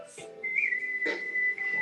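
A woman whistles a sustained, clear tone nearby, holding and bending the pitch with a few brief breaks, alone without speech.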